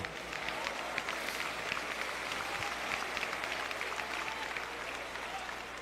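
A church congregation applauds in a long, steady roar of clapping hands that stays even and full for several seconds, spread across a large worship space, with faint voices mixed beneath.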